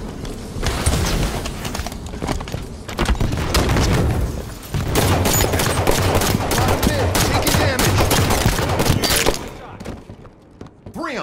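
Rapid automatic gunfire in Halo 5: Guardians Breakout matches, sustained bursts of shots rattling almost continuously for several seconds with brief pauses between volleys.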